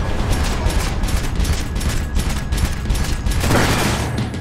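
Rapid gunfire in the video game Max Payne 3, a dense string of sharp shots in quick, slightly irregular succession, loud and close with rumbling booms, no talk.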